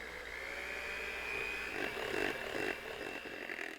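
An electric mixer whines steadily while beating unsweetened pumpkin puree into a chocolate chip pumpkin bread batter, with a close, constant motor drone and slight changes in pitch as the beaters move through the bowl.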